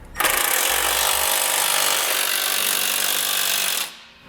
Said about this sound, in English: I'm going to snug up all my hardware.